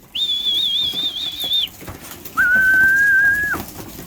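Two clear whistled calls to bring pigeons back for feeding: a warbling trilled whistle lasting about a second and a half, a short pause, then a steadier, lower sustained whistle, both close and loud over faint outdoor background.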